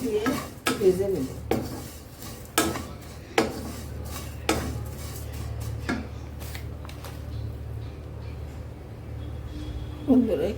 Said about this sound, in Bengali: এটা আমি একটু ঘি দিয়ে ভেজে নেব।